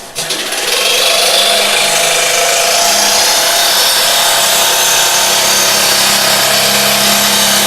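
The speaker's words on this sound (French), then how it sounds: "sur ma scie sauteuse, j'ai mis une lame clean wood" A jigsaw fitted with a clean-wood blade cuts steadily through laminate flooring, a loud, continuous buzzing rasp that starts after a brief pause and holds evenly to the end, with no voices.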